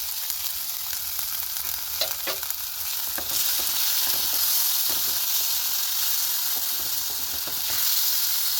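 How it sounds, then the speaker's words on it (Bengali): Tomato paste fries in a hot pan for a prawn malai curry, giving a continuous close sizzle with scattered scraping stirs and crackles that grows a bit louder partway through, with no voices. "এবার দিয়ে দেবো টমেটো বাটা।"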